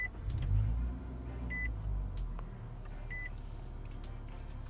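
A 2020 Nissan Altima SR starts up nearby with a low rumble of the engine catching and then settling into a quiet idle, while a few short electronic chime beeps sound from the cabin.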